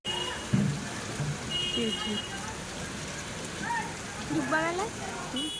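Steady rain hisses across the whole stretch while people talk faintly nearby, with a few brief melodic tones rising above the downpour.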